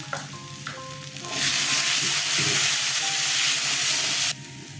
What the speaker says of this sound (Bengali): এক চামচ হলুদ গুঁড়ো এক চামচ শুকনো লঙ্কার গুঁড়ো এক চামচ জিরের গুঁড়ো দিয়ে দিলাম